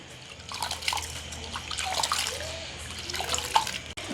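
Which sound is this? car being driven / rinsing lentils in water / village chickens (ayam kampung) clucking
rinsing lentils in water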